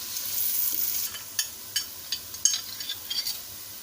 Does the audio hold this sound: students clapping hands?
no